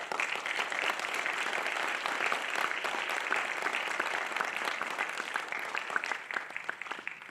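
Sustained audience applause at the XCL World Academy Class of 2024 graduation ceremony, a dense, steady wash of many hands clapping at even loudness for about seven seconds with no speech.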